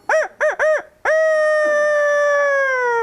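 A chicken in a forest in the morning gives three short clucks, then one long sustained loud crow-like call, close and alone.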